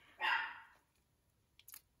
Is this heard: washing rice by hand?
no